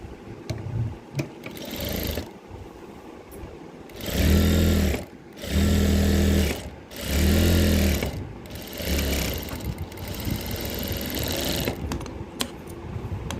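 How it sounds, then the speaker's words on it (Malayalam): A domestic sewing machine stitches along a pant leg in three loud, steady bursts of motor whirring and needle chatter, separated by short pauses while the fabric is repositioned, with faint handling noise between runs. "അതുപോലെ ഈ കാലിൻ്റെ ഈ ഭാഗം നമുക്കൊന്ന് സ്റ്റിച്ച് ചെയ്ത് കൊടുക്കാം."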